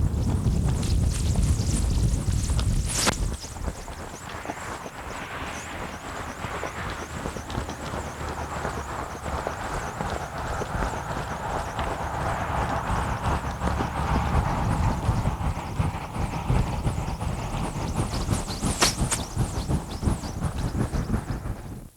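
Tennessee Walking Horses gaiting produce a steady, continuous patter of four-beat hoofbeats throughout, moderately loud under a constant background hum, with a couple of sharp knocks near the start and end.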